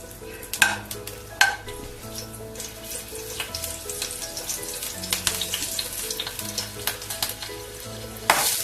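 Oil sizzles and crackles steadily as spices temper in a spoonful of hot oil in a pan for a tadka, with a few sharp clinks of a spoon, all over soft background music.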